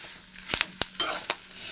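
Spices and curry leaves sizzling in a pan while being stirred, with sharp scraping strokes of a spoon at irregular intervals over a steady frying hiss.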